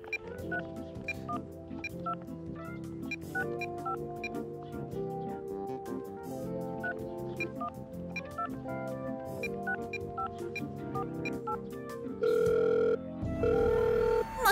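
In a Shopkins cartoon, a telephone rings through a long-distance call over light tinkly background music, ending in two sustained flat dial-tone beeps.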